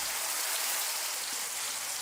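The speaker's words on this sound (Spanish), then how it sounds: "No para de llover" Heavy rain pours down in a steady, dense hiss with no pauses, loud and enveloping, during a storm while travelling on a wooden passenger boat.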